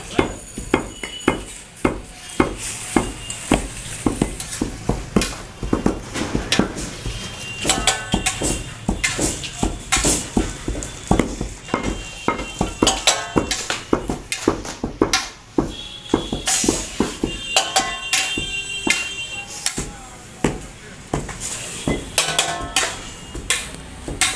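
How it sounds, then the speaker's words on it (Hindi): Sesame and jaggery (til gud) are mixed by hand in a small Samastipur factory, a busy stream of rapid clacking, scraping and knocking strokes close by, continuous and irregular with no talking. "अच्छा, ये मिक्स करना है इसको? मिक्स करना, गोवा बनाना"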